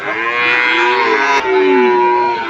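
A loud, drawn-out cow moo close by at a livestock market, followed immediately by a second long low moo, with no talking.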